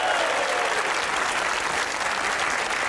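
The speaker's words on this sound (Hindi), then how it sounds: "तालियां बजाइए अपने लिए।" A studio audience at a Pakistani TV comedy talk show bursts into loud, continuous applause, thick and uniform clapping from many hands close by, holding steady without speech.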